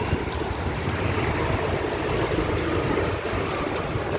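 Water flows along a road in a continuous broadband rush, steady and fairly loud with no pauses, with no one talking.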